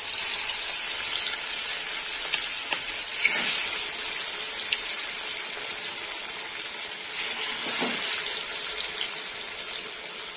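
Rohu fish pieces rubbed with salt and turmeric go into hot oil, giving a loud, continuous close sizzle and hiss with a couple of soft clatters.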